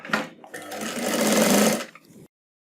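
A sewing machine runs a steady stitching line beside a hidden zipper on a readymade chaniya, starting with a few short bursts before one sustained close, loud run that stops abruptly into silence.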